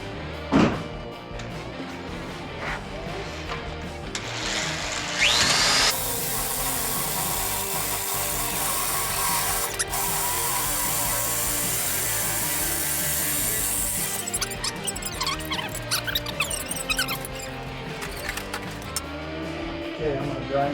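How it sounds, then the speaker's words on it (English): A power saw tube cutter slices through a metal tube with a loud, continuous whining and grinding roar, while people talk nearby. "Plug in that saw so I can cut this tube with my tube cutter."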